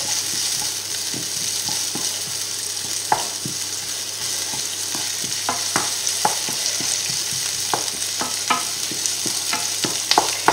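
Rice for a salmon risotto fries in a pan with a constant close sizzle, while a spoon stirs it and taps the pan in irregular scraping clicks.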